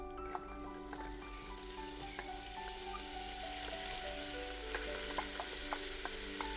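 Fresh green onion frying in a little olive oil over a fire for a traditional Albanian pea stew, a steady close sizzle with scattered sharp pops and crackles throughout, alone without talk.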